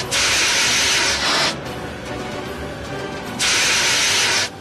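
A fire engine hose spraying water onto a kitchen fire, two loud sustained bursts of hissing spray separated by a quieter stretch of rushing water.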